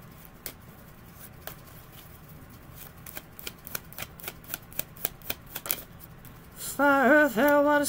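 A well-worn tarot deck is shuffled with a series of light, rhythmic flicks and taps, followed by a brief tonal sound at the end.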